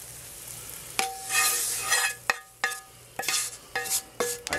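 Sautéed onion and sage vegetables are tossed in melted butter for Thanksgiving cracker crumb stuffing. A soft sizzle sits under a series of sharp, close spoon scrapes and clacks against the pan, about eight strokes in quick succession, with no talking.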